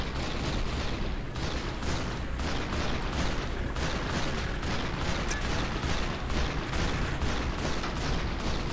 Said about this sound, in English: Encounters are typically filled with the sounds of gunfire, explosions, and shouting.